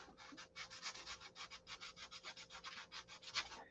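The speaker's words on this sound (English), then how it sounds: "I'm sanding with the end of the pad here." The end of a sanding pad is rubbed back and forth on the surface of a SIG Magnum model airplane, giving quick rhythmic scratchy strokes, around two dozen in a row, faint and close.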